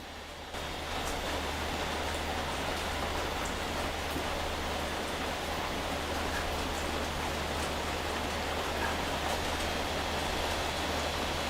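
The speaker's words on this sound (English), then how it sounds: "It's raining right now." Steady rain falls outdoors, a dense, even hiss of drops on surfaces that holds constant from start to finish without any voices.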